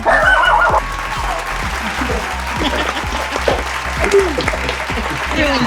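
Applause at a virtual graduation ceremony: a burst of clapping, followed by lighter, scattered claps, with voices talking over it.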